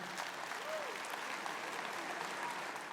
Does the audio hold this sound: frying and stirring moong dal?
no